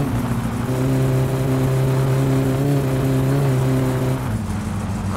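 Satsuma car engine in the video game My Summer Car droning and revving hard, a loud, steady harmonic hum that rises slightly and then drops back near the end.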